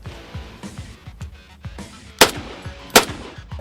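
A Mark 14 EBR rifle with an open muzzle fires two loud, sharp, close shots about a second apart, over a background of repeated low thumping.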